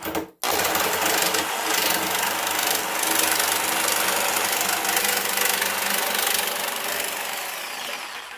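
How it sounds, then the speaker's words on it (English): Jigsaw (saber saw) with a metal cutting blade cutting through metal for a solar filter holder; a loud, steady buzzing, rapidly reciprocating rasp starting abruptly after a short pause and running continuously, close up. "I'm going to take a saber saw, some call this a jigsaw, with a metal cutting blade, and just going to run into this and cut that off."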